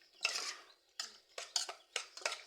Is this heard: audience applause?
no